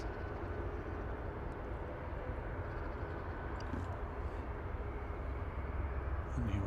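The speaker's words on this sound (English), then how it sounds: "Still waiting for that 777 to taxi out" A Boeing 777 at Manchester Airport hums steadily at a distance while it waits to taxi, a constant broad engine drone with no voices.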